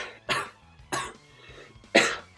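A person coughs three separate times, each a short harsh burst spaced about a second apart, close and fairly loud with no talking.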